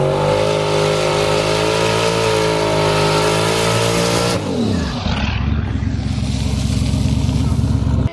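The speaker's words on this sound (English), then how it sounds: "I try to do my burnout and roll straight across it" Turbocharged race car doing a burnout on a drag strip, its engine held at a steady loud roar before dropping sharply in pitch midway, then rumbling and crackling low and close.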